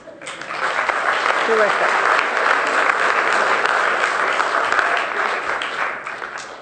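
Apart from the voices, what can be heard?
audience applause at city council meeting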